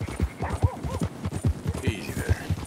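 Horse hooves clip-clop in a steady, even rhythm in Red Dead Redemption 2, close and clear, with a brief whinny partway through.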